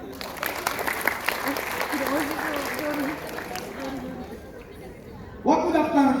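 Sustained audience applause fills the room for several seconds, dense clapping with crowd murmur, then a person begins speaking loudly near the end as the clapping fades.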